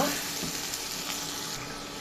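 Onions frying in a pan with salt for a poa fish bhuna, giving a steady, moderately loud sizzle that runs evenly through the clip with no talk.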